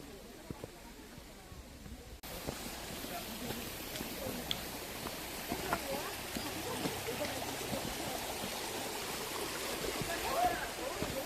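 A clear mountain stream rushes through a valley on Sori Mountain in Yangpyeong, a steady broadband wash of flowing water that swells in after a quieter opening couple of seconds and continues evenly.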